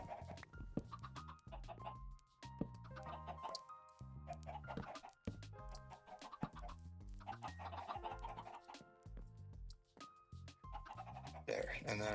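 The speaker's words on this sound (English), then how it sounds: "now we can grab some chickens out of here" Blocky Minecraft chickens cluck repeatedly in the video game, the short clucks layered over steady game music and other in-game sounds.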